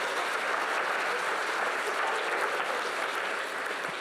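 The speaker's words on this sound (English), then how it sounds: "I'm not entirely sure what you're clapping there." A live theater audience claps steadily and loudly at an evening wildlife stage show, a continuous dense wash of applause holding at an even level throughout.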